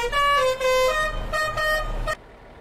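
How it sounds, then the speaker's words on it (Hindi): A horn on an Indian Tata truck in a driving video game blares in several loud, sustained, multi-tone honks with brief breaks between them, cutting off sharply at the end. "ये हॉर्न तो आप लोगों ने सुना ही होगा।"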